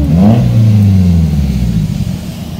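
A Nissan S14 Kouki's engine revs hard as the car pulls away, a loud, close rising roar that then settles into a steady drone, with no talking.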